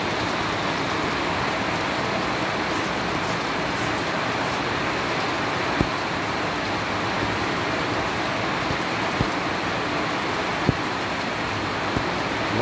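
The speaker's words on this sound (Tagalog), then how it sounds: "Madilim ang paligid dahil biglang ulan ng malakas." A sudden heavy rain downpour pouring down hard, a loud, dense, continuous hiss and roar of water with occasional sharp drips or knocks.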